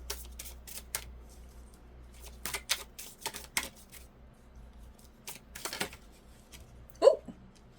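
Tarot cards shuffled and flipped in a reading, giving soft irregular riffling and papery slaps spread through the moment, with a sharper flick standing out near the end, close and fairly quiet.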